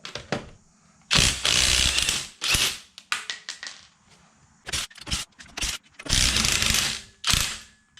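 An impact wrench or ratchet removing lug nuts and wheels from a Camaro, with loud bursts of rapid mechanical rattling separated by short pauses and some metallic clicks, close and dominant.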